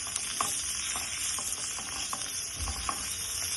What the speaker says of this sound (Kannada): ಹಸಿ ವಾಸನೆ ಹೋಗೋ ತನಕ ಹುರ್ಕೊಂಡ್ರೆ ಸಾಕು